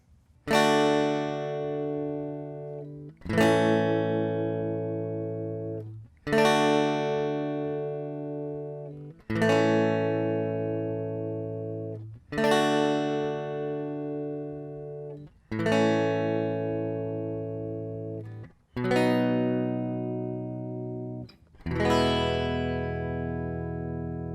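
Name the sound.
guitar chord progression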